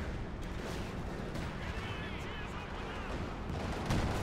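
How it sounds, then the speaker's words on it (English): Tank cannon shots firing HEAT rounds in Company of Heroes 2, heard as dense, continuous booming gunfire with a heavier blast near the end, layered under commentator talk. "those shots are just so impactful with the heat rounds"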